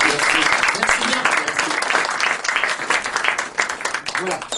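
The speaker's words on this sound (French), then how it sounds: "on va vous applaudir, on va vous remercier" A theatre audience at a mediumship show in Paris applauds with dense, sustained clapping that fills the room, while a voice talks over it.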